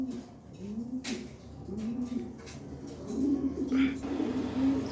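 A female pigeon cooing up close, several rolling low coos repeating every second or so, with a voice talking faintly at times in the background.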